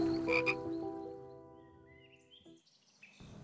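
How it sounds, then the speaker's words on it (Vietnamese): Frogs croak loudly on a farm in an animated folk tale. Several rough, rhythmic croaks overlap near the listener, with bright chirps above them, then fade to a quieter stretch before a final croak. "rõ ràng tiếng ếch vẫn rất ồn ào quanh đây"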